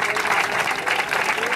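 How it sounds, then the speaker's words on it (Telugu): An audience at a day-long protest meeting of a Telangana transgender and intersex group applauds for Kripakar. The clapping is dense, continuous and close, with no pauses. "ఓకే కృపాకర్ సార్ గారికి ఒకసారి క్లాప్స్ కొట్టండి"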